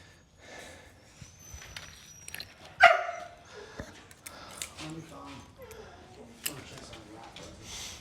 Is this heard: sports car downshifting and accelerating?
no